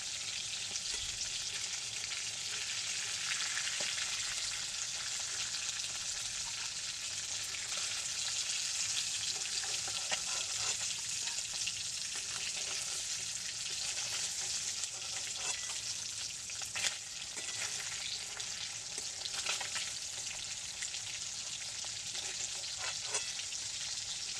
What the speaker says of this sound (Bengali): মাছগুলো আমার ভাজা হয়ে গেছে আমি এক এক করে মাছগুলো সব তুলে নেবো